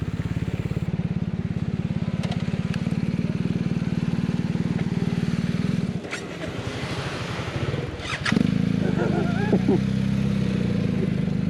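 A BMW GS motorcycle engine idles loud and steady close by, its low thrum pausing briefly around the middle before resuming stronger, with faint scattered speech beneath.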